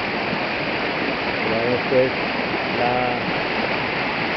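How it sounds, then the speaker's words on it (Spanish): Meléndez river rushing at the aqueduct intake near Cali, a steady broadband roar of flowing water close by, with someone speaking briefly over it. "Este es el río Meléndez, ustedes lo pueden observar acá."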